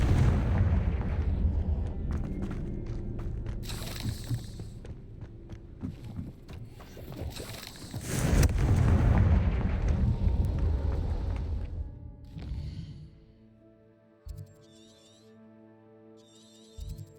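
Blasting-spell explosions from the Hogwarts Legacy video game, a loud sustained rumble of booming blasts with a second heavy burst midway, fading into quieter game music and ambience.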